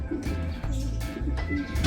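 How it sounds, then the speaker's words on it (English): Racing pigeons coo in a loft, soft low rolling calls repeating close by in overlapping phrases with some rustling, and no talk. "we have happy birds here"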